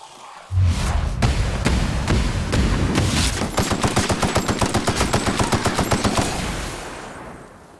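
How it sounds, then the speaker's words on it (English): Enemies fire plasma weapons in The Outer Worlds, a loud, rapid stream of sharp repeated shots that starts abruptly, settles into a steady rhythmic burst for several seconds, then fades out. "they're firing plasma"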